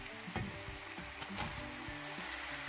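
Fish cake, onion and carrot sizzle and fry in a pan over low to medium-low heat, a steady close hiss broken by a few soft scrapes and clacks of stirring.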